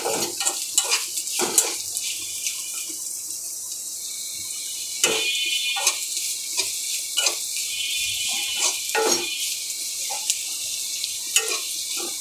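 Small local garlic cloves fry in a pan with a continuous hiss and repeated scraping stirs, near and fairly loud, with no voices.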